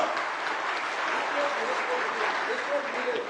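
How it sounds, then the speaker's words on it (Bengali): Sustained applause from an audience at a public event in Bogura, Bangladesh, honouring the sports minister, a steady dense clatter of many hands clapping throughout, fairly close and even in loudness with no pauses. "আমাদের ক্রীড়া মন্ত্রীর জন্য একটা জোরে হাততালি হবে"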